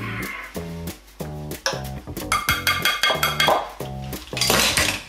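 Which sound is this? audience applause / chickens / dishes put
dishes put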